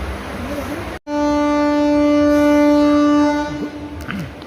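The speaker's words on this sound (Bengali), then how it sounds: "বন্ধুরা আমাদের ট্রেন ঠিক দুটো বেজে কুড়ি মিনিটে দীঘা স্টেশন থেকে ছেড়ে দিল" The Digha–Asansol Express sounds a loud, sustained horn blast of about two seconds as it departs Digha station, set against a steady background rumble.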